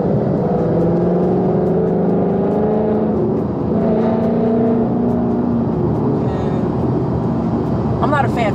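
Steady, loud road and engine drone from inside a car cruising on a highway, a continuous hum with a rising tonal whine throughout, while a person talks over it.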